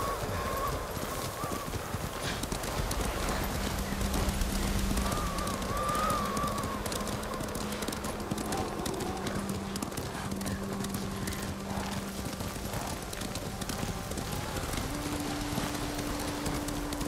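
Horse hooves gallop in a steady clip-clop rhythm through the Ghost of Tsushima video game, continuous and fairly close, with a brief whinny and ambient game sounds layered around it.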